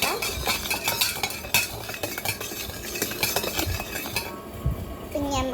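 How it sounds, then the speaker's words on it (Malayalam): A drink being stirred and mixed in a vessel, with clinking spoon strokes and light scraping against the container, under a voice speaking nearby. "ഇന്ന രീതിയിൽ മിക്സ് ചെയ്തെടുക്കാം"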